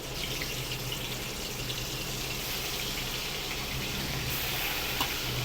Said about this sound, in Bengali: চলুন মাছগুলো ভেজে নিই